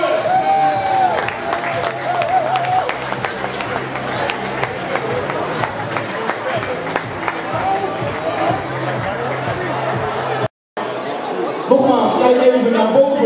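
Graduates at a diploma ceremony receive applause mixed with cheering and crowd chatter, a steady wash of clapping over a busy hall, broken by a brief silence before the noise resumes.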